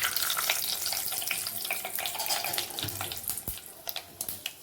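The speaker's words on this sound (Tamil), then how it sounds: "எண்ணெய் சூடு பண்ணியாச்சு. சோம்பு, வெந்தயம், கடுகு இவ்வளோத்தையும் ஆட் பண்ணுறேன்." Fennel, fenugreek and mustard seeds sizzle and crackle in hot oil for a fish gravy masala, a steady close hiss with scattered sharp pops growing more distinct toward the end.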